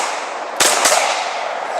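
Two sharp, loud pistol shots from a Colt .45 and a Glock 17 crack in quick succession outdoors, about a quarter second apart, over a steady background hiss.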